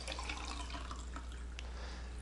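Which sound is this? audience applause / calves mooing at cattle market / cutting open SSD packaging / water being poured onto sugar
water being poured onto sugar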